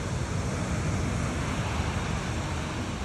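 Ocean surf at an Australian beach, a continuous loud wash of waves mixed with heavy wind buffeting the microphone, with no voices.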